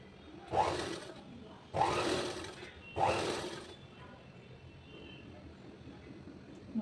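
Sewing machine stitching along a blouse neck piping edge, three distinct bursts of rapid whirring stitches about a second each, close and clear, followed by quiet room tone.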